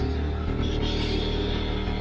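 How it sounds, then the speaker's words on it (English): An air compressor running inside an insulated mobile detailing van makes a dense, steady, loud mechanical drone with a constant hum throughout. "I'm going to turn on the compressor so you can hear it."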